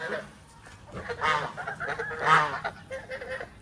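Domestic geese on a grassy field beside a pond give a few loud, nasal honks close by, two strong calls standing out amid quieter scattered cackling.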